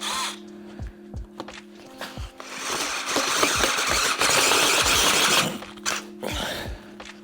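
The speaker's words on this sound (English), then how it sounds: "the drill bit's getting caught in this corner and in this corner" A power drill whines and grinds loudly through metal in long continuous bursts, the bit catching in corners, with short clanks and knocks between the drilling passes.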